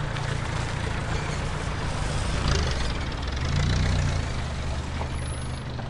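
A four-stroke engine runs with a steady low, throbbing rumble, swelling slightly midway, heard up close without any talking.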